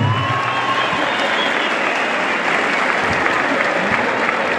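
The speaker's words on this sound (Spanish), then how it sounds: "de mi compa Migue, que montó Eligio Nava, regálele fuerte el aplauso." A crowd at a rural bull riding tournament applauds loudly and steadily, a dense wash of clapping and cheering that holds at an even level throughout.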